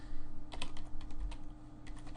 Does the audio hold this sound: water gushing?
no